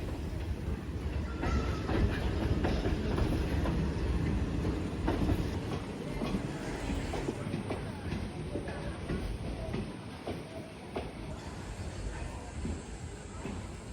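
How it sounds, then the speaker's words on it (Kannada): Passenger train 57402 leaving Munirabad station, with steady rumble and rhythmic clatter of the wheels heard from aboard, plus a faint hiss. Quiet overall. "ಅಂದೇ ಬಿಡ್ತು ನೋಡಿ, ಇಷ್ಟೊತ್ತು ವೇಟ್ ಮಾಡ್ತಿರೋ ನಮ್ಮ ಟ್ರೈನು 57402 ಮುನಿರಾಬಾದ್ ಇಂದ"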